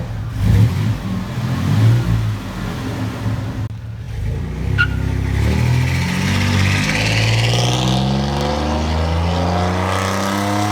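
A 1995 GMC Sierra 1500 step side pickup with a 5.0L V8 and dual Flowmaster Super 10 exhaust revs loudly and close, the engine note rising and falling in sweeping pulls with a deep rumble, no talking.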